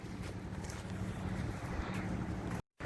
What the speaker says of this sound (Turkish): Güneşli bir havaydı ama şimdi rüzgar çıktı